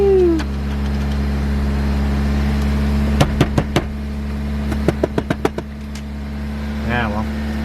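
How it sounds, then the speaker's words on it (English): A Toyota Corolla AE86 engine idles with a steady, loud low rumble just after starting following weeks unused, with a short series of sharp clicks and ticks partway through and brief talk at the end. "Weeks it hasn't started up. And just like that. Like a good Corolla."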